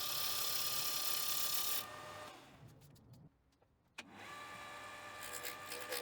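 Wood lathe turning down the outside of a wooden pulley: a steady whirring hum with cutting noise for about two seconds, then spinning down to near silence before a click and the motor running up again.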